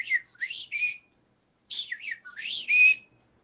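A person whistles in imitation of a caged pet bird, two bursts of chirpy rising and falling tweets separated by a short silence, close and clear.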